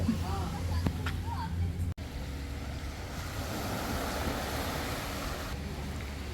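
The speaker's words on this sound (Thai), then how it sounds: "ฟังเสียงคลื่นแต่ว่ามันมืดแล้วนะเพื่อนๆ" Steady rushing surf with gusts of wind at a Krabi beach resort at night, a soft continuous wash of waves after a few faint voices and a brief click.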